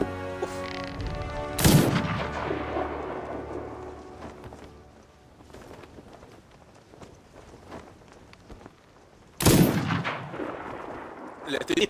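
Two sharp, loud gunshots fired at a shark in Sea of Thieves, spaced several seconds apart, each ringing out with a heavy echoing tail over quieter rumbling ambience.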